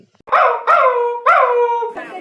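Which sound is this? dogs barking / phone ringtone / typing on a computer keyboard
dogs barking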